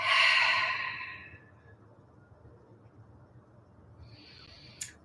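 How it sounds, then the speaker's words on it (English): A single audible mouth exhale during a seated chair yoga breathing exercise, a soft breathy whoosh that fades over about a second, then near silence with a faint breath near the end. "Exhale through the mouth."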